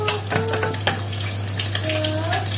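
Food frying in a pan with onions, seasoned only with salt, a steady crackling sizzle running throughout alongside a constant low hum and faint clinks, with no talk.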